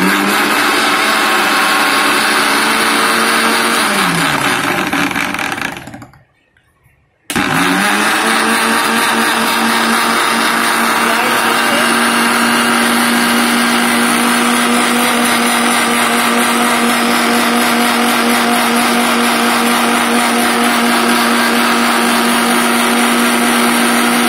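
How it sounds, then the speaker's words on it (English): An electric grinder blends homemade mayonnaise from egg and lemon juice with a loud, steady motor whine. It drops out briefly for about a second, then restarts and runs continuously at full strength. "let's turn on the grinder"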